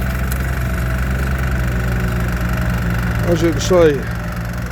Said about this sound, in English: we've got a little Ransom crawler with a left and right hand plough.